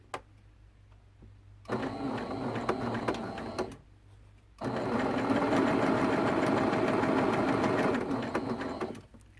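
A sewing machine stitches quilt blocks in two bursts of fast, steady mechanical whirring and needle chatter, separated by a short quiet pause, heard close up with no talk.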